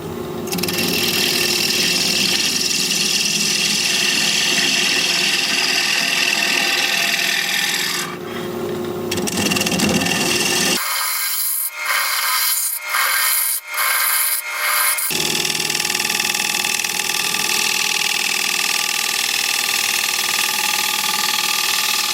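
A 5/8 inch bowl gouge cuts yew wood spinning on a lathe at 1200 RPM, producing a loud continuous rasping scrape over the motor's hum, briefly interrupted by a few short choppy contacts before the steady cut resumes.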